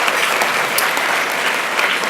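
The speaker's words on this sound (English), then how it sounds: "So give them a big round of applause, Dan." Audience applause at a salon event, a dense, steady wash of many hands clapping, loud and continuous throughout.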